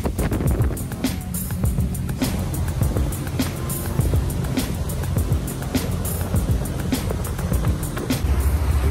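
A cabin cruiser motors across open water with a steady engine drone, and water rushes and splashes against the hull throughout.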